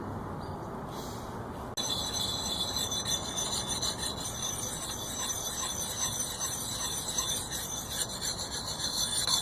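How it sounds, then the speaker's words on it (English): A Basque axe edge is sharpened with a DC4 diamond stone, giving steady, close, gritty scraping strokes that start after a brief pause and continue evenly. "we'll clean the edge up using a DC4"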